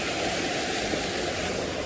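A wild mountain river in the Pyrenees, swollen and muddy after a big thunderstorm, roars as a steady, dense, close rush of water with no pauses.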